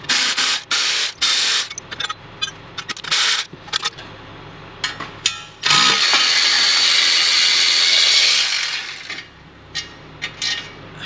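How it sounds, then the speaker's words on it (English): A ratchet works bolts loose from the gearbox support bracket and heat shield of a Porsche Boxster 986 in irregular bursts of close clicking, then a longer continuous whirring rattle, and then scattered clicks again. "I'm going to take out the bolts to remove the support bracket and heat shield on the back of the gearbox"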